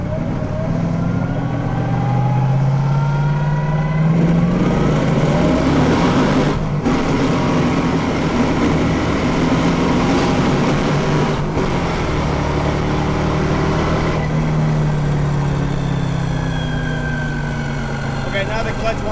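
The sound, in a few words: Mercedes-Benz engine with nitrous doing a pull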